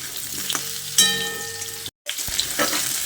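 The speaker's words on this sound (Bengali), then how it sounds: "সবজিগুলোকে আমি এরকম ঠিক লাল লাল করে ভেজে নিয়েছি" Mixed vegetables frying in a pan for a Bengali panchmishali curry sizzle steadily and loudly, with a brief stirring scrape and a short cut to silence partway through.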